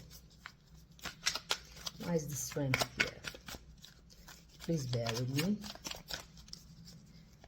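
Tarot cards are shuffled in brisk bursts of papery riffling and flicks, quiet and close, with a person talking between and over the shuffles.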